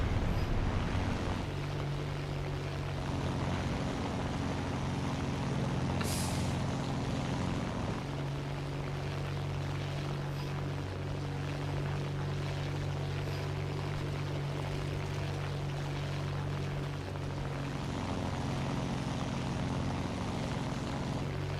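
An airplane in War Thunder air arcade climbs hard under a steady, loud propeller-engine drone with a low constant hum that holds throughout, no talking over it.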